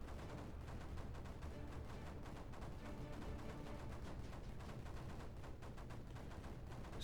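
In the video game Creeper World 4, mortars fire repeatedly, producing a dense, faint, continuous clatter of rapid thumps and bursts with no talking.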